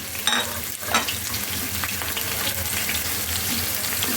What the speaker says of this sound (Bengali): দিয়ে দিচ্ছি আমি কাঁচামরিচ ফালিগুলো একটু ভেজে নেব।